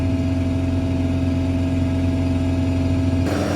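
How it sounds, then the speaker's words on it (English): A concrete mixer's hydraulic engine drones steadily with a low hum, running continuously at a constant pitch, close and loud, with a slight shift in tone near the end as it revs up. "The mixer was slowing down, so we've just got in and revving it up a bit more now."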